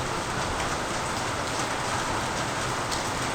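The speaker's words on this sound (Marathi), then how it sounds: "असाच पाऊस पडतो, नॉनस्टॉप पाऊस चालू आहे." Heavy monsoon rain in Konkan pours down nonstop, a dense, even hiss of drops hitting surfaces, loud and close with no other sounds.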